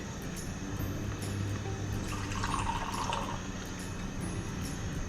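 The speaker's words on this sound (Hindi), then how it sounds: "सवा कप ही पानी गया।" Water pours steadily into a cooking pot of mutton pulao in a continuous splashing stream, close by, with a faint background hum and no talking.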